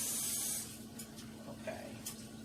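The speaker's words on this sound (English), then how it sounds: "we're just rinsing the spinach off" Water sprays onto spinach being rinsed, a faint soft hiss that is strongest at the start and then fades to a low, steady trickle with light rustling.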